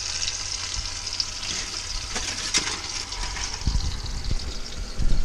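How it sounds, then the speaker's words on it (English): Food sizzles in a pan with too much oil in an RV kitchen, a steady close frying hiss with a few soft clatters toward the end. "It looks like I'm kind of deep frying them."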